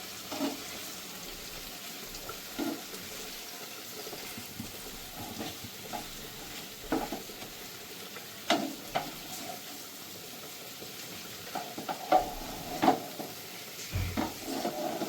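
Bitter gourd and potatoes fry quietly in fish oil, a soft steady sizzle broken by faint scattered clinks and stirring scrapes, with no voices.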